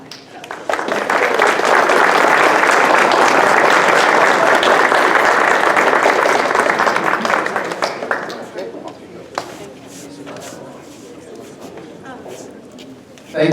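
Banquet audience applauding seniors and their moms at a boys soccer team banquet: loud, dense clapping for about eight seconds that fades out, followed by quieter room noise and faint voices.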